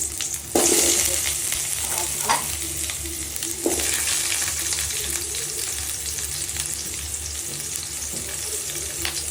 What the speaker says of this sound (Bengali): আমার চাল কুমড়োটা এখন ভাজা হয়ে গেছে।